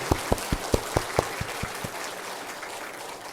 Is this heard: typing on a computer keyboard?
no